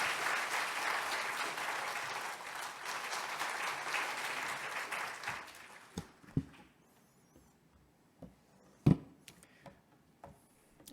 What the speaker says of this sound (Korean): 한 번 더 뜨겁게 박수해 주시기 바랍니다